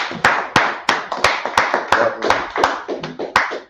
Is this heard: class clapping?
yes